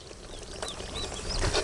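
Tamarind water bubbles at a steady boil in a pot for garlic pepper curry, a close, continuous soft patter and hiss that swells slightly toward the end, with no talking.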